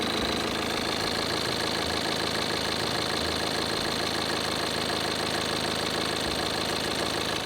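A Tata diesel car engine idles with a loud, steady, unbroken rumble and a fast knocking clatter running throughout, with constant vibration and no voices.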